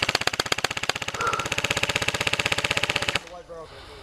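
Rapid automatic gunfire rattles off in a fast, even burst of sharp shots for about three seconds, close and loud, then stops; voices talk nearby.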